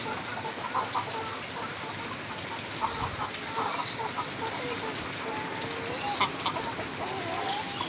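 Laying hens on a chicken farm cluck intermittently over a constant hiss of background noise that resembles rain, with scattered calls throughout and no clear talking.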